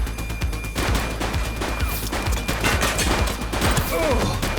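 A police firefight in The Precinct video game, with a dense volley of gunshots rattling off one after another for several seconds amid crashing game noise and a brief voice.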